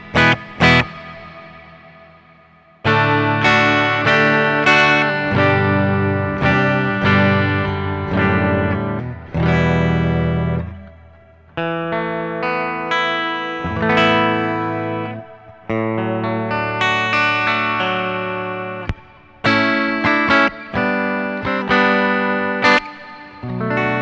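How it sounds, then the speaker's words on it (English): Electric guitar played through a LEKATO Tank G multi-effect unit with modulation and a shimmering sparkle reverb: loud strummed and picked chords in bursts with short gaps, chorus-like wavering and long ringing tails. "A very nice, kind of like a sparkle reverb,"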